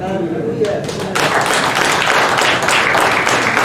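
A congregation at a Sunday church service bursts into applause, a sudden wave of many hands clapping that starts after a brief voice and continues thick and close to the end.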